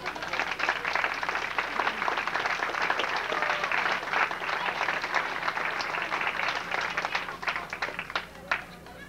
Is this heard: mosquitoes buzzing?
no